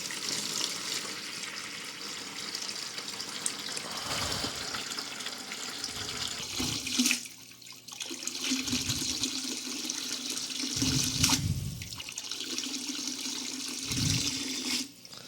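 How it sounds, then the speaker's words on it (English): A siphon drains water from a planted aquarium during tank maintenance, giving a continuous close rushing and gurgling flow with occasional low thumps and splashes, no talking. "Round 2 on the siphon."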